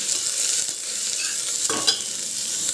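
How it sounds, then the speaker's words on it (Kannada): Onions and green chillies frying in oil in a pressure cooker, with a steady bright sizzle throughout and a couple of scraping stirs near the end, close up and without talk. "ಇದಕ್ಕೀಗ ಈರುಳ್ಳಿ ಹಾಕೊಳ್ಳೋಣ ಇಲ್ಲಿ ನಾನು ಎರಡು ಈರುಳ್ಳಿ ಹಾಕ್ತಾಯಿದ್ದೀನಿ ಒಂದು ಮೂರು ಹಸಿಮೆಣಸಿನ್ಕಾಯಿ ನಾನು ನೀಟಾಗಿ ಕಲಿಸ್ಕೊಳ್ಳೋಣ"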